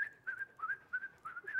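A person whistles bird-like chirps and tweets in short warbling phrases, imitating songbirds on a stage in a children's story, fairly quiet and alone with no talking.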